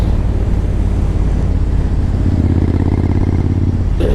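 A 2013 Triumph Thunderbird cruiser with ABS rumbles steadily under way, its low engine drone loud and continuous with wind buffeting the microphone, the note shifting slightly near the end.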